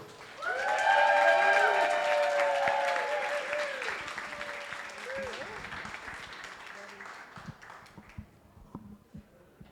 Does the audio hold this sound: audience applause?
yes